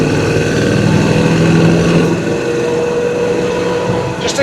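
A 1969 Chevrolet Nova with a big block and 4-speed runs with a steady, moderate exhaust drone throughout, a continuous low rumble heard from inside the car during a drive.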